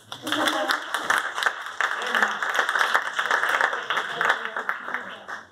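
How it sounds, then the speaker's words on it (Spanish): An audience at a science communication talk gives a short round of applause for volunteers, moderate clapping with voices mixed in underneath. "Un aplauso."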